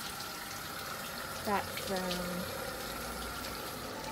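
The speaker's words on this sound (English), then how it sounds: "That's the toilet emptying, which is the hole is where the waste goes." Waste from a motorhome toilet empties into a ground drain at a German stopover dump point, a steady watery gush and splash running throughout, with a brief word of talk over it.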